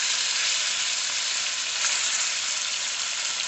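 Boneless chicken breast seasoned with garlic fries in a single layer in a pan, giving a steady, even hiss of sizzling oil with no talking.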